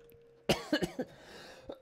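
A person coughs in a quiet room, a quick cluster of four close, abrupt coughs near the microphone followed by a soft breath, with no talking.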